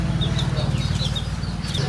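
Chickens cluck in a steady, close run of short calls over a low rumbling background, with a few higher squawks scattered through.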